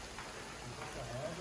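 Heavy rain pours steadily over a Pakistani village yard before dawn, a dense, even hiss of drops hitting the ground and surfaces that holds at the same level throughout.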